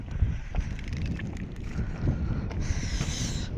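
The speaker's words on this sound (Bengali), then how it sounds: "হাওয়া," Gusty wind blowing across open, freshly ploughed farm fields, a steady low rumble buffeting the microphone with no talk.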